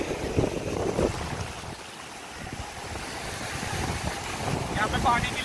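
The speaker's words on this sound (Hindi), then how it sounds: "यहाँ पे पानी की लहरें बहुत बढ़िया आ रही है।" Sea waves at Calangute Beach in Goa wash in with a broad rushing surge under gusty wind noise, swelling and fading over a few seconds, with faint voices in the background.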